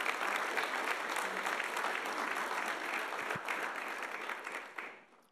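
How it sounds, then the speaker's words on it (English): Steady round of applause from an audience at a college athlete of the year awards event, fairly quiet and continuous, tapering off at the end. "Let's give them a great round of applause"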